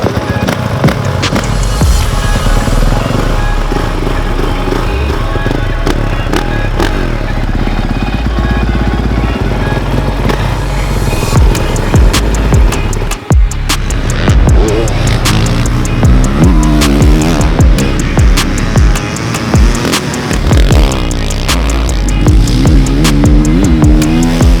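A 2024 Honda CRF450 motocross motorcycle runs loud and close, its engine roaring continuously and rising and falling in pitch as it is ridden hard, with sharper revving bursts in the second half.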